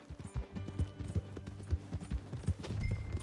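Horse hooves clip-clop at a steady riding gait in the video game Red Dead Redemption 2, close and fairly loud, with a regular trotting rhythm throughout the short passage.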